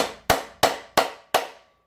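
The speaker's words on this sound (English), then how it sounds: "I have a brass punch, so that's not going to damage it, and then I just use a hammer." A brass hammer strikes a brass punch set against a Lambretta scooter gearbox endplate: four sharp, evenly spaced metallic taps, each ringing briefly and fading before the next.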